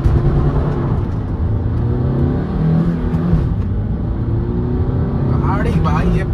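Five-year-old Maruti Brezza accelerating hard in first gear, a loud sustained engine roar with rising revs and whirring road noise heard from inside the car.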